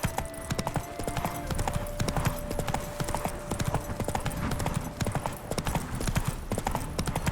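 Hooves of a horse in The Witcher 3: Wild Hunt – Hearts of Stone clip-clop in a steady trotting rhythm throughout, with a faint tonal hum in the background.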